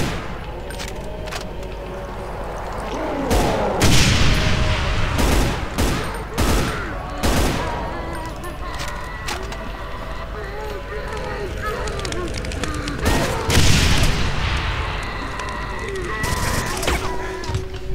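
Gunfire in Brutal Doom, with rapid bursts of shots and loud impacts clustered in several volleys over a rumbling game background, a voice occasionally speaking over it.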